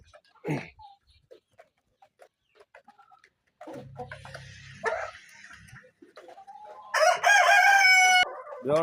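Adult Bahama roosters and hens on a farm: scattered clucks and calls, then a loud rooster crow near the end, with other barnyard animal sounds between quiet gaps.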